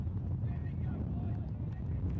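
Wind blows across a field at the 2012 World Ultimate Championships men's final, giving a steady low rumbling buffet on the microphone, with faint crowd or voices underneath.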